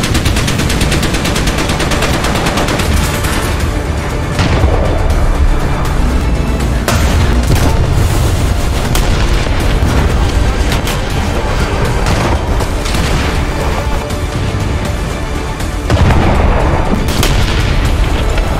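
Tank battle in War Thunder, 1945 US against Soviet armour in a town: loud, continuous gunfire and booming explosions with repeated heavy blasts and rattling fire throughout, no talk.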